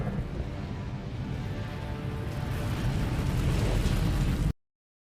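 An explosion in an Iron Man movie scene, heard as a sustained, dense roaring blast and rumble that keeps going for several seconds before cutting off abruptly.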